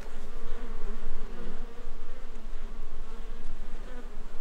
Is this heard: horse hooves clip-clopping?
no